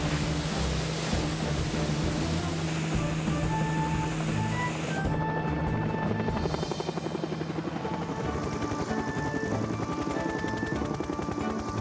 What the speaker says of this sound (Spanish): No si vas en helicóptero.